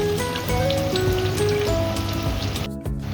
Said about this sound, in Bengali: কিছুটা বেরেস্তা করার জন্য আমি তেলে দিয়ে দিচ্ছি পেঁয়াজ